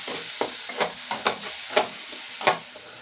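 Onion and garlic paste fries in hot oil for a Bengali sonabogo fish curry, a soft continuous sizzle broken by a handful of scraping stirs of a spatula across the pan.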